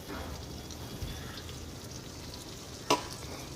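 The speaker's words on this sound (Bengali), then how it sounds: "পেস্টটা এবার এবার এর মধ্যে দিয়ে দেবো চিংড়ি মাছ ভাজা ভাজা হয়ে গেছে এর মধ্যে দিয়ে দেবো" Spice paste with poppy seed sizzles steadily in a village kitchen pan as fried prawns are added, with one sharp clatter near the end.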